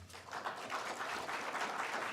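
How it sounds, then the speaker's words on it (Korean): An indoor audience at a forum launch ceremony applauds steadily, a dense, even wash of many hands clapping heard from across the hall, fairly faint and without speech over it. "여러분 다시 한번 통일공감 포럼을 앞으로 이끌어 나갈 김천식 차관님과 차경희 공동대표님께 뜨거운 박수 부탁드리겠습니다"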